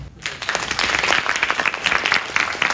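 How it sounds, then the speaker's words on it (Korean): Warm, continuous applause from a gathering of drama students and staff at a university farewell party, dense and steady after a brief quiet start, close and fairly loud. "학교장을 비롯해서 학회원들에게 따뜻한 감사의 박수 한번"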